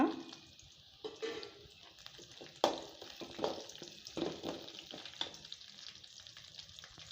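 Onion, garlic, tamarind and chili fry in a pan for a chutney, a soft continuous sizzle broken by occasional stirring scrapes and clicks, close but fairly quiet, with no talking.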